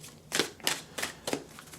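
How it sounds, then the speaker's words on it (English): A tarot card deck is shuffled by hand in four quick, crisp riffling bursts, evenly spaced and close, with no talk. "We're going to shuffle right now."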